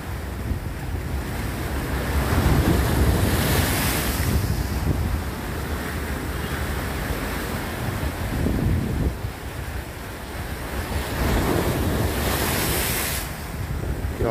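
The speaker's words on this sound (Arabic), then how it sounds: "عشاق صوت البحر" Sea waves breaking on the shore of the Eastern Harbour at Raml Station, Alexandria, rolling in with swelling surges every few seconds over steady wind buffeting the microphone, with no voices.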